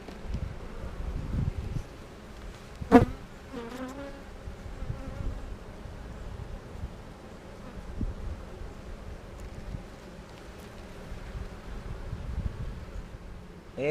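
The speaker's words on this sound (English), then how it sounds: "Got a lot of bees in here." A dense, steady buzz of many honey bees in an open hive fills the air, close and continuous, with faint rustling and one brief louder sweep partway through.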